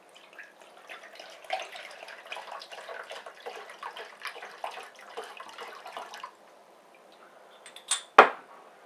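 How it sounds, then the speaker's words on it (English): Well water pours into a container with a steady splashing trickle that runs for about six seconds, then stops, and a couple of sharp clinks follow near the end. "And then I'm going to pour it in here."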